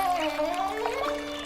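A continuous rush of water pours from a deserted waterfall in a cartoon folk tale, a steady, fairly loud wash with no voices over it.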